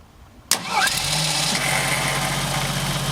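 A 1977 Jeep CJ5 fitted with an HEI distributor fires up abruptly after a moment of near silence. It catches at once and settles into a steady, rumbling idle close by.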